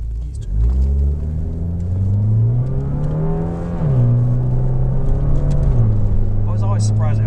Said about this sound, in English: I was always surprised at how loud these cars are for stock.